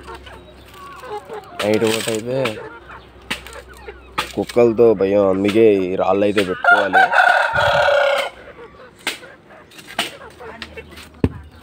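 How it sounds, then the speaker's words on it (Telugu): Chickens and young chicks cluck and crow in a backyard coop. The bird calls come in repeated bursts and are fairly close, and someone talks over and between them. "చూడండి కోడి పిల్లలు."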